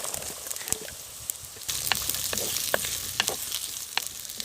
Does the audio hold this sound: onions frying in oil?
yes